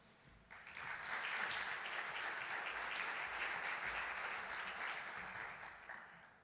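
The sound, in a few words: audience applause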